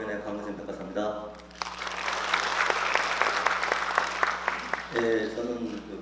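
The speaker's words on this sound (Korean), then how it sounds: "큰 박수 부탁드립니다." A seated audience at a neighborhood residents' briefing applauds a guest lecturer, a dense wash of clapping lasting several seconds between stretches of someone talking into a microphone.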